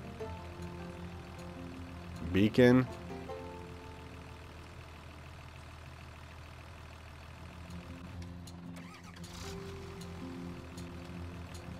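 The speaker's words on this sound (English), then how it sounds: "Let's turn the engine on." A tractor engine in the Farming Simulator video game drones at a steady idle throughout, with a brief louder tonal blip early on and a single short spoken word over it.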